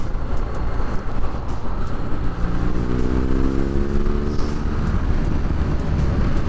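BMW R Nine T Urban GS motorcycle ridden on a city street, a continuous loud engine drone with a rising pitch sweep midway as it accelerates, heard from the rider's position with road and wind rumble.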